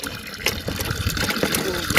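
Water gushing from a hand pump in a desert village in Cholistan, a steady rushing splash with rhythmic pulses as the handle is worked, a voice speaking over it.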